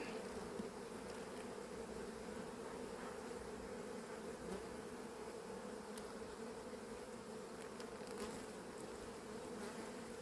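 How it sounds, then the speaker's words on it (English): Honeybees buzz steadily and continuously across a hive frame full of brood and sugar-water stores, a close, dense hum with no talking over it. "They're making winter bees."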